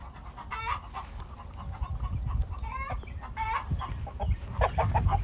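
An Americana rooster on a farm makes several clucks and short calls that rise and fall, heard near and moderately loud over a low rumbling background.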